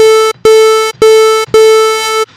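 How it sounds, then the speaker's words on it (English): A bright, buzzy detuned square wave synth tone from the Sytrus synthesizer, thick and slightly wobbling, played as four sustained notes with short gaps between them, loud and close. "But I like to keep the volume of the detuned square wave"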